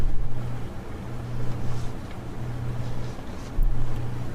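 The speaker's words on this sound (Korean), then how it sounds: "구멍을 둘러싼 철판을 통해 모터 돌아가는 소리가 들렸다." A machine motor hums steadily behind a steel wall inside a cramped crawlspace, in a radio drama setting, with a low droning pulse repeating in long even cycles over a constant rumbling noise bed.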